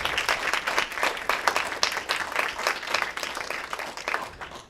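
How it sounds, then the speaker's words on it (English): An audience at a high school robotics awards ceremony claps, a dense, lively round of applause at moderate distance, sustained for several seconds before tapering off at the end. "Let's give them a round of applause."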